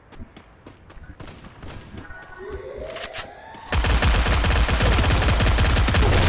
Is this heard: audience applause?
no